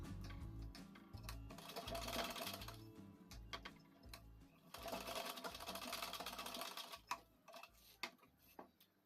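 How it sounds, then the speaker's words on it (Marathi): A sewing machine stitches newborn baby clothes in bursts of rapid mechanical ticking, stopping and starting several times. The sound is close and clear, with brief pauses between runs. "शिवून टाकायचं."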